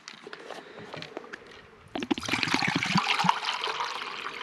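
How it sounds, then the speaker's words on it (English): Water pours into a crusader mug outdoors, a quiet trickle with light clinks at first, then a fuller, louder rushing splash as the stream strengthens, heard without talk. "fill it with water and get that water to the boil"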